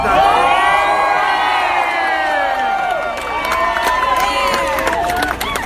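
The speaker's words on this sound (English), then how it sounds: "this is a record-setting crowd for this place" A large, record-setting crowd at an outdoor political rally cheers loudly and continuously, with whoops and shouted voices layered into a steady roar that dips briefly midway.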